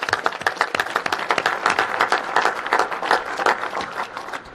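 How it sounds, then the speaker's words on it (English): A large audience at a National Space Council meeting breaks into sustained applause, dense, loud overlapping clapping filling the room with no talk over it. "So give yourselves a round of applause."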